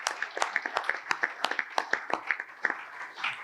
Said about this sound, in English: could you guys give them a round of applause for great hair and a birthday?